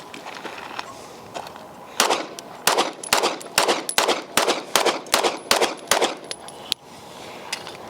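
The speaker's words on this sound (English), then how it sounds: "10 rounds to the non-ported Echelon and then give it a run with the Lucky 7s." A ported Springfield Echelon pistol fires about ten sharp, loud shots in a quick, even string, each crack close and distinct with brief gaps between, and no talk over them.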